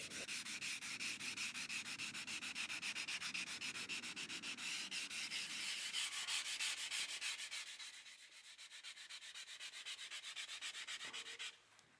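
Stone carving being roughed out and refined with steady abrasive sanding and rubbing against the stone, continuous and close for most of the stretch before easing off near the end.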